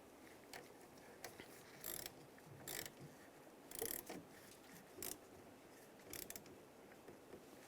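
Ratchet clicks in short bursts while tightening the negative battery cable on a 2007-2013 Chevrolet Silverado 1500, quiet and close with pauses between strokes and no talking.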